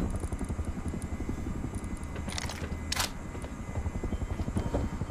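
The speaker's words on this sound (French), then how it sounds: "surtout qu'il y a l'hélico là. Ouais, j'entends." A helicopter flies close by in the game Rust, its steady loud rotor chop running throughout with a brief sharp click near the middle and no voices.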